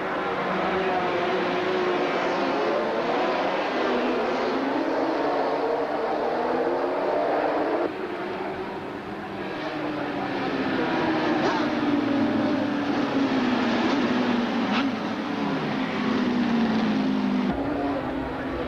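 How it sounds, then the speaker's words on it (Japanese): 1983 All-Japan championship 500cc GP motorcycle race at Suzuka, factory works bikes from three makers, engines whining past in a steady continuous drone with rising and falling pitch sweeps, a commentator talking over it throughout. "3大メーカーのワークスマシン激突で注目されました 500cc クラスオートバイレース"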